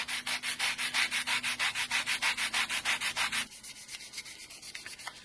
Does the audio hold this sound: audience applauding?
no